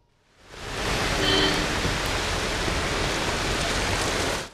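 Light rain falls across Chennai on an evening after a dry spell, a steady, even hiss that swells in within the first second and holds at a constant level.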